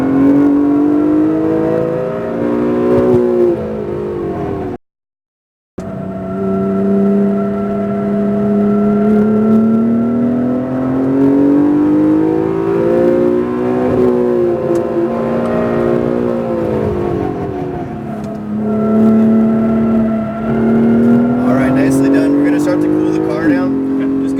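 An Acura NSX engine revs hard around a race track, its tone climbing and falling in long sustained sweeps, loud and close, broken once by a brief dropout early on.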